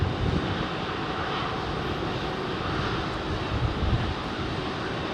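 An Airbus A380 departing Heathrow runway 27R roars with dense, steady jet engine noise, loud and close throughout, with a faint hint of wind.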